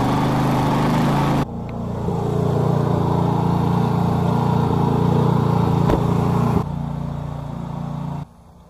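Gasoline pressure washer engine just after a pull start, loud and close, running at a steady throttle and dropping in pitch and level twice as it settles, with no talking.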